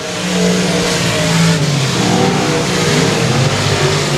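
Race cars roar around the short oval at Sabine Speedway, several engines revving hard and overlapping in a loud, continuous drone with rising and falling pitch as they accelerate, no talk over them.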